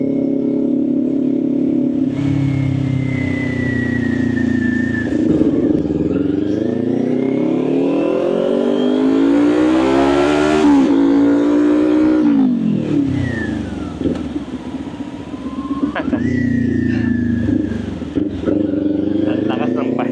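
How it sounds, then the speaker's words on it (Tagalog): A Kawasaki Ninja 400 fitted with an SC Project exhaust pipe rides through Manila city traffic, its engine revving up and down in loud, rising and falling sweeps, with horns and other traffic around it. "Ang lakas ng pipe."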